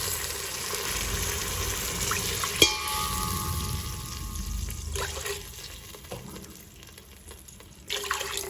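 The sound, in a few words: water poured into pot of rice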